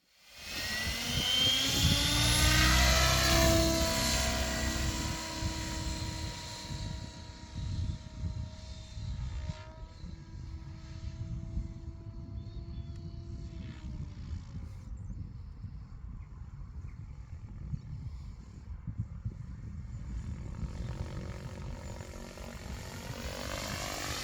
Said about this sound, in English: let's have a look at the first autorotation, which is a 12S 700